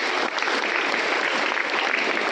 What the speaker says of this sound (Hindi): सबसे पहले आज के असेंबली के लिए एक बार जोरदार तालियां।